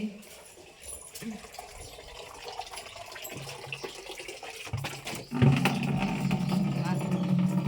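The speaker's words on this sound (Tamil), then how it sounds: "போய் தண்ணி ஆஃப் பண்ணு போ." A kitchen tap runs at home while a roasted-gram cake is being made, a low trickle under conversation that turns into a loud, steady gush of water for the final seconds.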